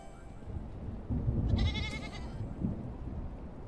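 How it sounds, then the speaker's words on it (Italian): A goat in the video game Airport Renovator lets out a single wavering bleat over a low rumbling background, fairly soft and alone without talk. "Ecco la capra che mi continua a seguire."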